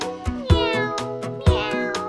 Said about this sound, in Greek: Η γάτα κάνει μιαου